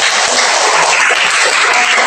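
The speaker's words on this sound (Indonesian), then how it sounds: "tepuk tangan untuk Awan dan Titik" Applause from a group of schoolchildren in a classroom lesson, a dense, steady wash of many hands clapping together for about two seconds without pause.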